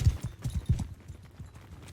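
Horse hooves in Mount & Blade II Bannerlord, a quick rhythmic clip-clop of galloping strides, fairly close and steady, easing slightly toward the end with no talk over it.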